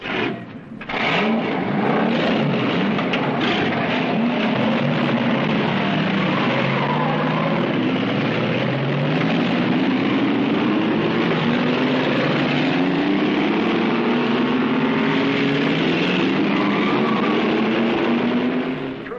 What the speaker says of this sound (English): In true Indianapolis tradition, gentlemen, start your engines.